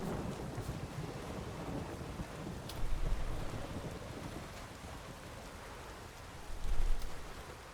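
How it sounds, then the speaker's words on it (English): Pouring rain at night in the video game The Witcher 3: Wild Hunt, a steady hiss of downpour with low rumbling swells like distant thunder rolling in twice, no one speaking. "middle of the night, pouring rain,"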